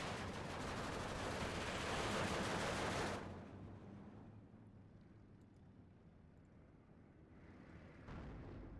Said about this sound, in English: Still shooting at it with the mortars.